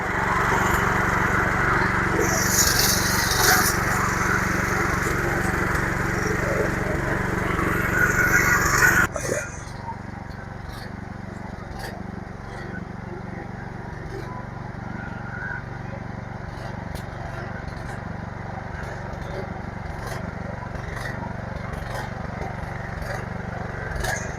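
A stubble mower engine runs loudly and steadily as the machine crosses a pitted sugarcane plot, its buzzing drone dropping to a lower, quieter level partway through and carrying on evenly.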